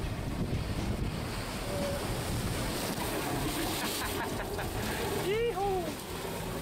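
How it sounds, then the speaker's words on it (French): Strong wind of 25 to 30 knots roars over a Vendée Globe 2012 racing sailboat at sea, with waves rushing against the hull, loud and continuous, while someone speaks briefly. "Il y a 25 nœuds, 30 nœuds de vent. Voilà ce que ça donne."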